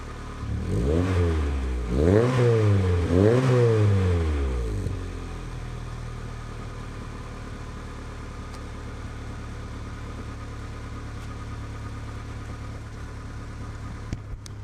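A Honda DC2 with a Tanabe Hyper Medallion exhaust blips through three rising-and-falling revs in quick succession, then settles into a steady low idle that rumbles on close by with no talk.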